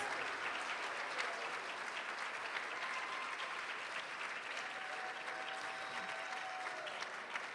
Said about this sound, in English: Let's give our fifth grade band another round of applause for an excellent, excellent performance.